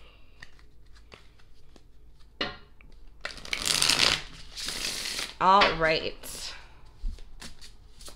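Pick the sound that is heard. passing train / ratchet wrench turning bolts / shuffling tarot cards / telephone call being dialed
shuffling tarot cards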